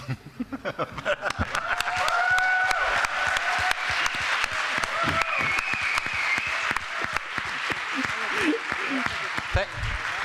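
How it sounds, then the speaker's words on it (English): An audience at a wine bloggers' event claps loudly and steadily, dense applause that swells and holds, while a voice speaks over the crowd. "I want everybody to keep clapping and thank Tim here and Charles"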